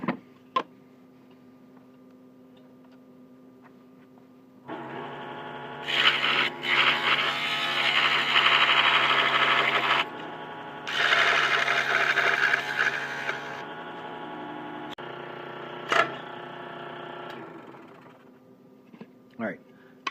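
A wooden finger joint is cut out for a box. Two long bursts of loud cutting noise sit over a low steady hum, with occasional sharp clicks before and after.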